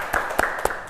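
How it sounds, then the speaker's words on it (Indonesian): A small audience at a prize announcement claps in a few sharp, distinct hand claps spaced about a quarter second apart, close and brief, over a light background murmur. "Tepuk tangan dulu dong."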